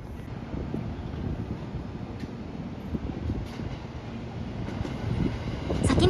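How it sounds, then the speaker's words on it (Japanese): A JR Tokaido Line down train departs Toyohashi Station, its low rumble steady and moderately near, swelling slightly toward the end with wind buffeting the microphone. "先に出発していったのは、 JR 東海道線下り列車です。"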